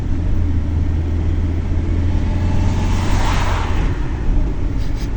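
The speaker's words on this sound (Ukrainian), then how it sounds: "Що тут так машина тяжко?" A vehicle engine hauling a load of buckwheat strains at a low, heavy rumble, droning steadily and loudly from inside the cab, with a brief rise in road and engine noise midway.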